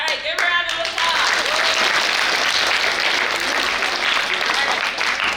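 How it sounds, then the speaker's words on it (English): Students at General Herkimer break into loud, dense clapping that fills the space steadily for several seconds, following a brief voice at the start. "give her a round of applause"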